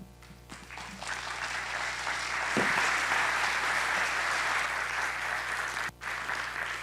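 A conference audience applauds as a speaker takes the stage, steady dense clapping that swells and holds at moderate loudness before thinning near the end.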